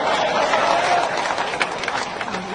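Crowd clapping, a dense burst of applause that is loudest at the start and then thins into scattered, lighter claps over a couple of seconds.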